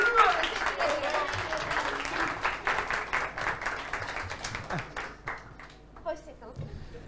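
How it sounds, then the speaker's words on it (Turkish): Audience applause at a Turkish TV comedy game show, with dense clapping that stays steady and fairly loud before slowly thinning out near the end. "Ve son alkışınızı Elif Hanım için alabilir miyiz?"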